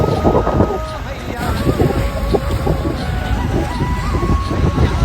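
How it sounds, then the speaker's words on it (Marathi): Strong wind buffets the microphone in loud, rumbling gusts on a fishing boat at sea during traditional dol-net fishing, with water sloshing around the boat and a voice talking beneath the roar. "वारा जाम सुटलाय डोली काढायला आहे ना जाम त्रास होत आहे"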